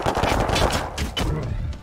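Rapid bursts of gunfire ring out during a battle in the Warhammer 40,000: Chaos Gate Daemonhunters video game, loud, close, clattering shots in quick succession.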